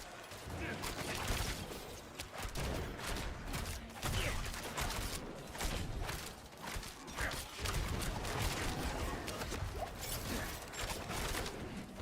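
Rapid volleys from the Rogue's Barrage skill in Diablo 4, a dense, continuous spray of gunfire-like shots and whooshing impacts that stays loud throughout amid busy combat noise.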